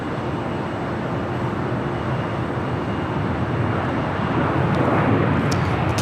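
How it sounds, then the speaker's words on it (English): A KLM airliner, Flight 604, rolls down runway 24 on the north side of LAX, giving a steady, broad roar of jet noise that holds throughout and grows slightly louder toward the end. "KLM, Flight 604, rolling down 24 right there on the north side"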